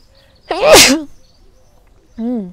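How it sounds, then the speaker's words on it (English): A person sneezes once, loud and close, with a sharp burst followed by a brief trailing vocal sound a moment later. "now I need to sneeze"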